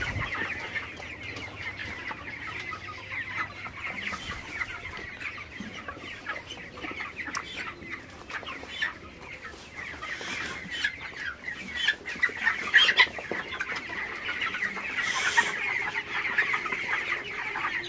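Broiler chickens cluck continuously at a poultry farm during vaccination, a steady flock chorus with occasional louder squawks close by and no talk.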